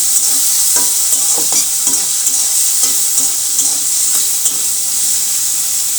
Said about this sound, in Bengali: এবার তেলের মধ্যে চিংড়ি মাছটা দিয়ে দিব। চিংড়ি মাছটা দিয়ে আমি একটু ভেজে নিব।